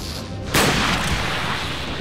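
A single heavy gunshot in the video game Resident Evil 4 booms loudly and close, followed by a long noisy rumbling tail.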